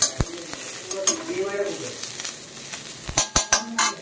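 Onions fry in oil in a pan with a continuous close sizzle, a faint voice briefly underneath, and a cluster of metallic stirring clinks toward the end.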